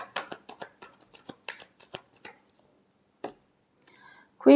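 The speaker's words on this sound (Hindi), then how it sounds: "last shuffle" Tarot cards being shuffled in quick soft riffling flicks, close and dry, followed by a few scattered clicks and a short loud rustle at the end, with whispery speech around.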